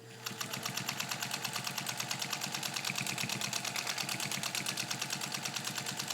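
A restored vintage Singer 201K sewing machine stitches steadily through thick layers of fabric, its needle running in a fast, even mechanical rhythm, close and continuous without pause.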